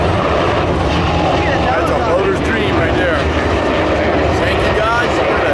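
Coast Guard helicopter at a Virginia Beach air show, its engine and rotor noise a steady loud drone beneath a continuous commentator voice over the public address.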